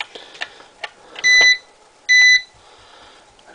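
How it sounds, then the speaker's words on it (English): An electronic beeper near a darkroom enlarger gives two short, shrill tonal beeps about a second apart, set among faint clicks and handling knocks in a quiet room. "I don't like that beeper."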